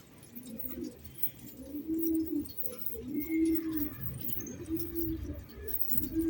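Msawad pigeons coo in a steady series of low, throaty, rolling calls repeating every second or so, close by and clear against faint background noise.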